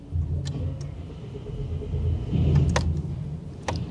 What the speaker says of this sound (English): we will be away once this convoy of cars finishes driving past